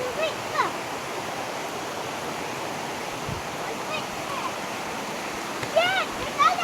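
Waterfall on Koh Chang Island in Thailand, a steady rushing roar of falling water with brief voices and splashes breaking through near the end.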